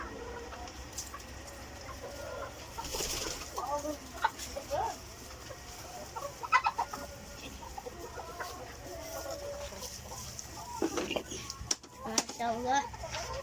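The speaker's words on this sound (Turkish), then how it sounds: "O yüzden tavukların hepsi içeride" Chickens cluck and murmur softly inside a henhouse, with a steady ventilation fan hum underneath and occasional brief human sounds.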